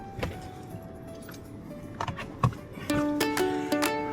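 Car keys jangle in short metallic clinks and shakes, close by and moderately loud, scattered through the moment alongside faint tonal chimes and a quiet background, with no voices.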